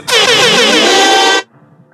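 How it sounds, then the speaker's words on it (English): A single loud air horn sound effect blares for about a second and a half as a harsh, buzzing sustained blast, then cuts off abruptly into near silence. "That's my fake ass air horn that I ripped from a source"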